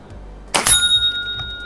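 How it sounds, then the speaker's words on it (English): A sharp metallic ping as an air gun pellet strikes a bell target, leaving a bright ringing tone that lingers and slowly fades. "There, it's ringing that bell."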